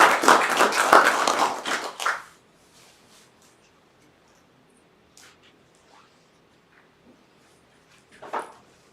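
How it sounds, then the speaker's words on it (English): A conference audience gives a short round of clapping to welcome a presenter at an Internet of Things management workshop, dense claps fading after two seconds into quiet, with a few faint knocks and a soft thump later. "we can also welcome Martin with a warm applause"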